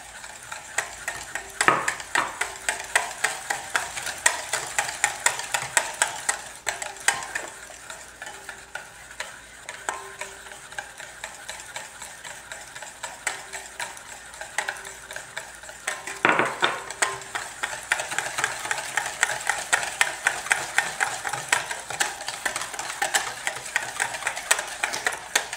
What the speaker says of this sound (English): warm clarified butter, just a little at a time and whisking as we go along